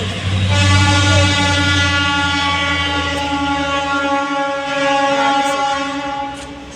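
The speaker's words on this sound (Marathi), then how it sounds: "इथून ट्रेन गेली, आवाज ते येतच" A train passes unseen through thick morning fog, a sustained loud rumbling drone with a steady horn-like tone that swells and slowly fades over several seconds.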